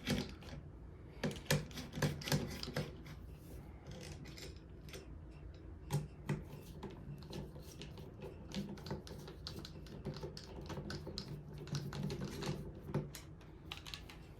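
Small clicks and ticks of screws being backed out of a rifle during a barrel and bolt face swap, scattered light taps in an irregular rhythm, close and quiet, with no talking.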